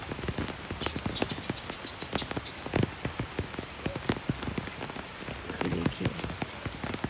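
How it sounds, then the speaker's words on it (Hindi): Rain falls steadily outdoors where monkeys sit getting soaked, a close, dense patter of drops striking surfaces with occasional sharper splashes and no one talking. "बारिश हो रही है"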